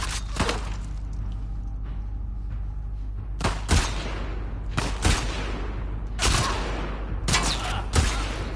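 Gunfire in The Last of Us Part II, a handful of sharp, loud shots spaced a second or more apart with heavy low thuds and short decaying tails over a quieter game background, no talk.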